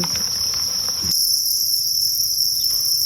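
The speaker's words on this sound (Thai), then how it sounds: "วันนี้นะคะ ก็จะพามาดูจิ้งหรีดนะคะ เรากำลังลองไข่จิ้งหรีดอยู่" Crickets on a cricket farm chirp in a loud, dense, continuous trill, with the high shrill buzz holding steady throughout and no voices.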